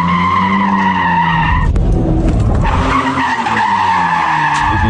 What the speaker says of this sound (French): Un pilote tellement doué que les 4 roues motrices de la GTR ne l'empêchent pas de drifter.